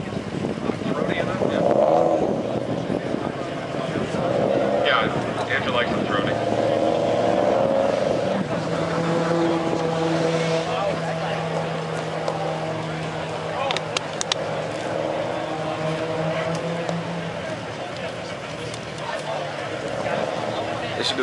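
Engines roar as cars drive past in an exhaust competition at a car meet, their exhaust notes rising and falling at a moderate distance, with people chatting in the background.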